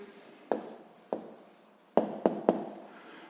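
A pen writes on paper in a quiet room, giving a few sharp strokes and taps at irregular intervals, close and fairly soft.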